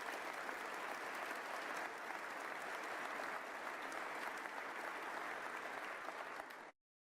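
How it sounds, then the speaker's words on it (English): An audience applauding state officials at a State of the State address, a dense, steady wash of clapping from a large crowd that cuts off abruptly at the end. "Give them a big round of applause,"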